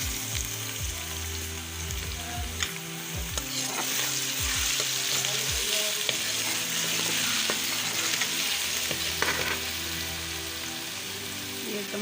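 Garlic ginger paste frying with onions in a pan, a dense continuous crackling sizzle like rain on a surface, with occasional low clanks and stirring strokes close by.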